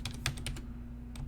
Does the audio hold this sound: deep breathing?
no